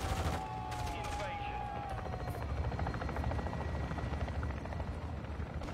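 Helicopter in a Call of Duty match, its steady rotor drone filling the scene with bursts of gunfire and a brief whistling tone early on, heard at moderate level without speech.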